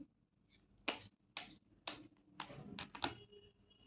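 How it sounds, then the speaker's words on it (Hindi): Tarot cards are shuffled by hand in a quiet room, a series of short soft riffling bursts at uneven intervals, close and fairly faint, with no speech. "कार्ड शफल कर लेती हूँ।"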